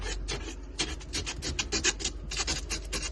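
Rapid rasping scrapes, one after another, of ice being scraped off a car windshield, close and fairly loud, with no talking.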